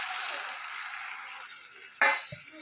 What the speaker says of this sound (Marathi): इकडे शेंगदाणे पण टाकू असं मस्त परतून घेऊया